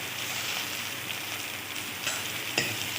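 Green chilli, ginger and garlic fry in hot oil with a continuous close sizzle, a few soft stirring scrapes and clicks breaking through near the end.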